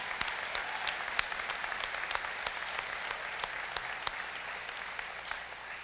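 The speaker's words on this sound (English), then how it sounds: "let's give a big round of applause for him." Steady applause from a crowd, a dense wash of clapping with a few sharper individual claps standing out, continuous throughout.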